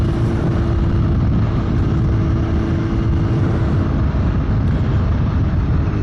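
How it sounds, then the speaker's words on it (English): A rider's own 2020 Kawasaki Z900 motorcycle on the move, its engine a steady, loud drone with heavy wind rumble throughout, no talking. "bike I'm riding is my own Kawasaki Z900"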